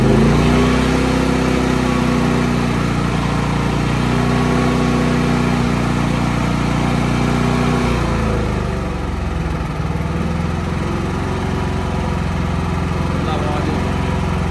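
Senci SC8000i 7 kW silenced inverter generator running at fast idle, a loud, steady mechanical drone with a tonal hum that shifts pitch and settles lower partway through, close and continuous.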